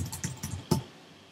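Quick burst of keystrokes on a computer keyboard, about six close, crisp clicks in a fast uneven rhythm, the last one loudest, then quiet.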